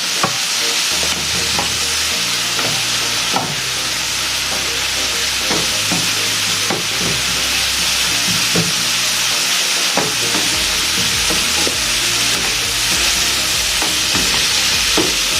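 Mung beans with tomato stirred and frying in a pan for a Filipino mung bean and moringa dish, a steady close sizzle with repeated scraping strokes of a spoon running throughout.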